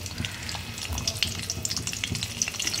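Whole spices (bay leaves, dried red chillies, cinnamon sticks and cardamom) frying in hot oil in a pan, a steady close sizzle with scattered crackles and occasional stirring clinks.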